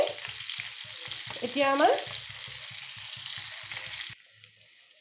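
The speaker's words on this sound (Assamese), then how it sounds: "আমাৰ মাছকেইজনী প্ৰায় ফ্ৰাই কৰা হৈ গৈছে" Fish pieces shallow-frying in hot oil in a pan, a close, steady sizzle with a brief spoken phrase over it, cutting off abruptly near the end.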